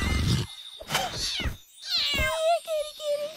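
A cartoon cat meows several times in a cartoon episode, with a close, drawn-out final meow, mixed in among short bursts of other sounds.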